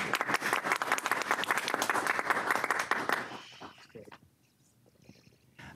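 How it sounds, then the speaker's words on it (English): Brief applause at a board meeting, a small group clapping briskly for about three seconds before stopping, followed by quiet room tone. "I'm going to actually clap."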